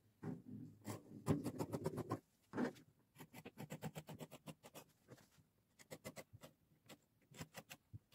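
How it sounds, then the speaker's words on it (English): Scissors snip through folded fabric while a gown is cut out, giving a quiet series of rapid, crisp cuts in uneven bursts with short pauses between them. "Then I will cut it open."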